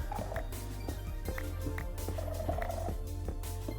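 Animals purring in the Minecraft video game, a low steady rumbling drone running the whole time with small repeated clicks and game noises on top, no talking.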